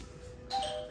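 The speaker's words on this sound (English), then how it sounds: "That was the doorbell ringing to tell us to let them in." A single electronic doorbell chime rings out partway through in a hotel room, clear and close over a faint room hum.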